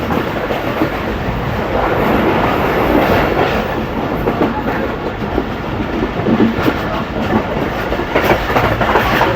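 A passenger train in Pakistan rolls along the tracks between the Mandra and Chaklala stations, a loud and continuous rumble with clickety-clack from the wheels and rhythmic jolts heard from inside the carriage.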